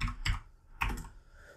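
A couple of quick bursts of typing on a computer keyboard, close and crisp, with a short gap between them and no talking.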